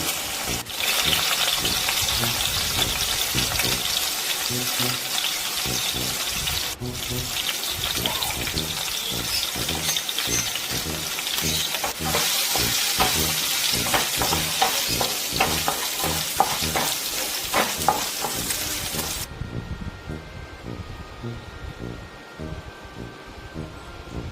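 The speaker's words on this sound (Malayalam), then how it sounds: "അപ്പോൾ അതൊന്ന് വെളിച്ചെണ്ണയിലൊന്ന് മൂപ്പിച്ചെടുക്കുകയാണ് എല്ലാം കൂടി." Coconut, shallots, garlic, fenugreek and lentils fry in coconut oil with a steady, loud sizzle and crackle, with occasional stirring scrapes, for over twenty seconds before the sound drops off.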